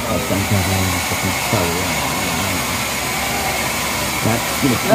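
A hair dryer blows with a steady loud whoosh throughout while voices chatter over it.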